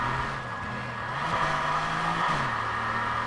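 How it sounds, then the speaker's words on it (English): An Aston Martin's engine growls and revs in Need for Speed Heat, a steady droning note that dips and climbs again as the throttle shifts, loud and continuous with no talking. "this car sounds like a beast."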